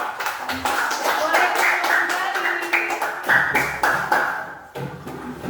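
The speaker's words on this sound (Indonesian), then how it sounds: "Tepuk tangan dulu dong." Children in a third-grade classroom clap their hands together in a lively burst of rapid, overlapping claps close by, mixed with voices.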